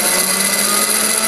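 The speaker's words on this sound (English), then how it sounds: "So I'm going to turn the exhaust on now." The exhaust fan of a prototype 2-pound electric fluid bed coffee roaster runs with a steady, loud whooshing drone and a faint tonal hum, close and unbroken.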